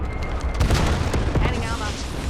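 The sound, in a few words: grenade explosion in video game Call of Duty Black Ops 7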